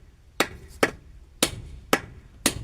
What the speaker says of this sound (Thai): ตอกดีๆอย่าให้บิดอย่าให้เบี้ยว